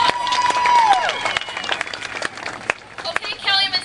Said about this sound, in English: Let's give Dennis a great round of applause